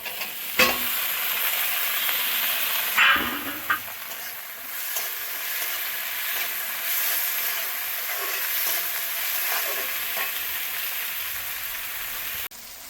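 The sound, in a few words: frying capsicum and tomato with onion, chilli, garlic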